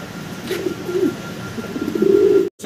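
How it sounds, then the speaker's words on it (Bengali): Fancy Modena pigeons coo close by in low, rolling bursts, two sustained calls separated by quieter murmuring, ending abruptly. "আমরা খুবই চমৎকার কালার কোয়ালিটির এক জোড়া মডার্না কবুতর দেখতে পারতাছি এখানে"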